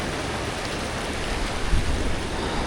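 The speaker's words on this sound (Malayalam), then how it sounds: "നല്ല മഴയാണ്." Heavy rain pours down along a mountain road in Kashmir, a dense, constant roar of falling water close by, with a low rumble partway through and no voices.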